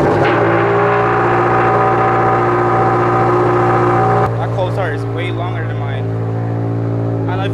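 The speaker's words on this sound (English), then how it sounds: "That cold start is fucking loud and longer." A car engine on a cold start runs at a high, loud idle throughout, then the pitch drops slightly as it settles, with someone talking over it.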